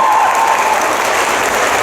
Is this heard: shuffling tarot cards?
no